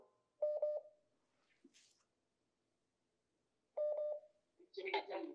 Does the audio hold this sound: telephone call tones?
yes